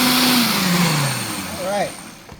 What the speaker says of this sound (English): I'm gonna puree this sorrel now.